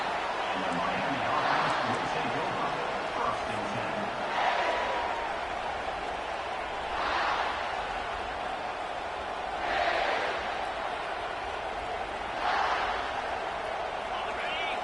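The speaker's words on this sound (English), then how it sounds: "This crowd, full throat, spreading the eardrums and letting them know it's going to be a long day." A football stadium crowd roars continuously at a game, with the swelling noise rising and falling in waves beneath steady commentary.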